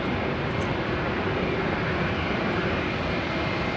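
At Guangzhou Baiyun Airport during the busy hour, an airliner rolls for takeoff, probably a China Eastern Boeing 737 at the head of the queue. Its engines give a steady, even roar with no voices.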